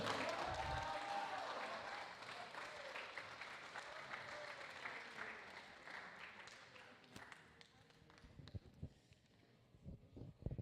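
A crowd applauds a third-place finisher at a racing podium ceremony, steady dense clapping that is loud at first and slowly thins out toward the end.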